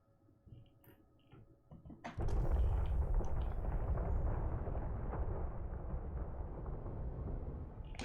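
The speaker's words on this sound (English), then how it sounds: "Still hear the rumble from the explosion." An asteroid explodes in a space mining video game: after a few faint, scattered sounds, a sudden deep blast opens into a loud, sustained low rumble that slowly fades.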